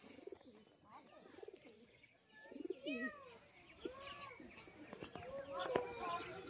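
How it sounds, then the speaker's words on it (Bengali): Pigeons coo in soft, rolling calls around a rooftop loft, with a few chirps of other birds and someone talking at times over the birds. "দেখুন পায়রাগুলো দেখুন"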